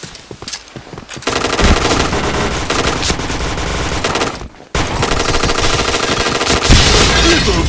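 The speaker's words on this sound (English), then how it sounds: "Triple kill!" Rapid automatic gunfire from a clan-war match in the shooter game Point Blank: loud, continuous bursts of machine-gun fire that break off for a moment and then resume just as dense.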